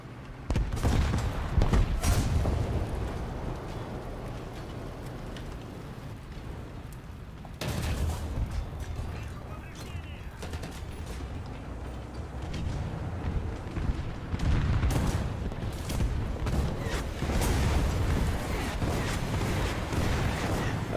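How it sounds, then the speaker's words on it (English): Rocket explosions in a tank battle video game, with repeated heavy booms and rumbling blasts layered over a constant roar of combat, the loudest bursts near the beginning and in the middle. "That's a lot of rockets."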